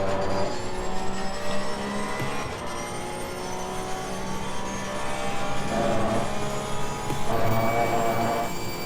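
Race car engine in the video game Assetto Corsa Competizione, a loud continuous engine whine climbing and falling in pitch through gear changes as the car brakes and accelerates, with no voices.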